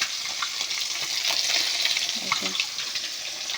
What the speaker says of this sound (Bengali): আজকে আমি মাছ ভাজা করছি